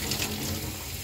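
Tap water runs from a kitchen faucet into the sink while dishes are washed, a steady close splashing hiss that continues without pause and without any voices.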